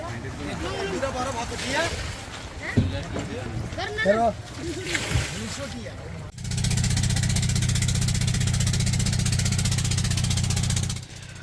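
A boat engine starts up loud and steady near the Sandwip coast for a sea voyage and hilsa fishing trip, droning continuously for about five seconds after a stretch of people talking over splashing water.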